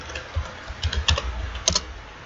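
Password being typed on a computer keyboard while logging into a Windows client machine: a quick run of close, sharp key clicks in small irregular bursts, with no voices.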